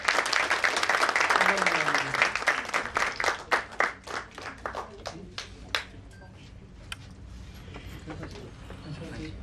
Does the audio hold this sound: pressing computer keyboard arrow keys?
no